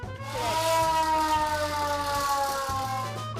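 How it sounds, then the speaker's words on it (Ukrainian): A wailing civil defense air-raid siren of the kind used at the start of World War II drones steadily and loudly, its rising and falling pitch sustained throughout with no voices. "Це сирена, яку використовували тоді, коли почалася Друга світова війна."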